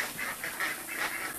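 Domestic geese on a rabbit-keeping homestead give a quick series of about six nasal honks at a moderate distance. The honks come in a fairly even rhythm with no talk over them.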